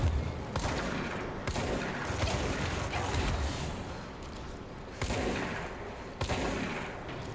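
Sustained gunfire from a minigun in the video game Control, loud and continuous with dense overlapping shots, swelling in several bursts over a steady roar of combat noise.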